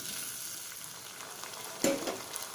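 Dried fish curry base frying in a pan, a steady close sizzle with a sharper crackling burst near the end as something is stirred or added.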